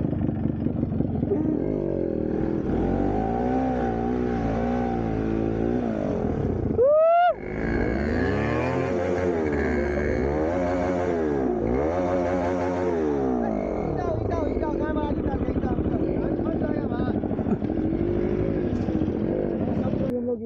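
A motorcycle stuck in deep mud on a muddy road is revved repeatedly, its engine rising and falling in long wavering surges with one sharp high whine, a loud close drone throughout.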